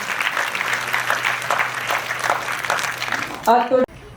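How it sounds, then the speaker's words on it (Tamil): A burst of applause from a crowd at a Tamil language festival, steady clapping filling the room for a few seconds before cutting off abruptly. "பேஷாக ஒரு கைத்தட்டலை கோருகிறேன்"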